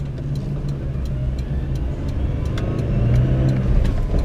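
A Geo Tracker engine revs while accelerating onto a freeway, a steady mid-pitched drone rising gradually in loudness with road and wind noise, heard from inside the cabin.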